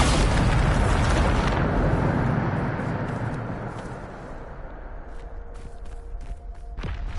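A Bombarda blast spell in a Hogwarts game lets off a loud, close explosion. A rumbling roar follows and slowly fades over several seconds into quieter ambience with faint scattered clicks, and no voices.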